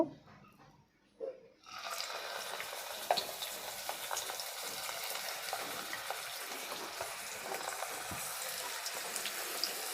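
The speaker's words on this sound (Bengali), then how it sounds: "এখন মাছের টুকরোগুলো আমি একে একে গরম তেলে দিয়ে দিব।" Pieces of katla fish, cleaned and cut, drop one by one into hot oil and burst into a loud, dense sizzle that goes on steadily after a brief quiet start, with faint pops and clinks close by and no talking.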